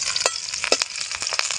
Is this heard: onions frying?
yes